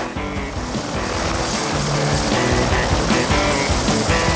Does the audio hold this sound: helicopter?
yes